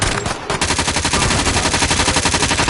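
Steady automatic gunfire in Call of Duty Cold War, a video game, firing in a fast, even rhythm after a brief opening burst, loud and close and alone without speech.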